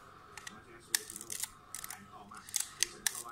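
A film camera shutter snaps and the film advance clicks, repeated sharp mechanical clacks and ratchety winding in a quiet room, spaced irregularly across the stretch.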